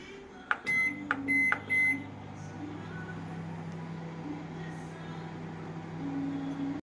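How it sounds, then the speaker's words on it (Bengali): A microwave oven heating momos gives a few quick beeps at the start, then settles into a steady, close, low electrical hum that runs evenly to the end. "চলেন এখন গরম করতে দিই ওভেনে"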